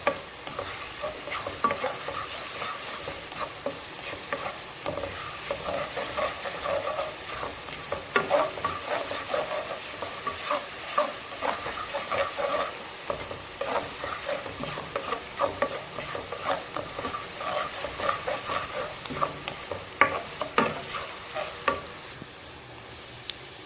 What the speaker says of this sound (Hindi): इसमें हम अदरक लहसुन का पेस्ट शामिल करेंगे और हम इसको सौते करेंगे इसके साथ